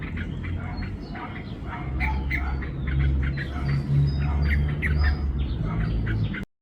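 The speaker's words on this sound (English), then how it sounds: "These is the parent bulbul chirping distraction call or warning call." A yellow-vented bulbul parent near its nest in a malunggay tree gives harsh, repeated squawking warning calls in a steady, busy series over a low continuous background hum.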